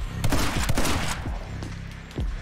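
Shotgun blasts in the video game My Friend Pedro, several quick booming shots in close succession followed by a pause and one more low thump, loud and punchy.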